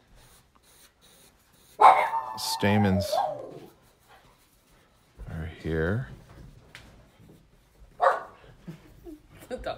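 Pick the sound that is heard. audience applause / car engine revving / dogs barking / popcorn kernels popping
dogs barking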